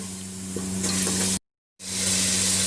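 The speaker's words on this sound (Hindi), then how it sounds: "ये चेस्ट का लिया था मैंने चिकन, और इसको अच्छे से अब पकाएंगे" Chicken breast pieces frying in a pan for a chicken biryani, a loud close sizzle with stirring, broken by a brief silent gap midway, with no voices.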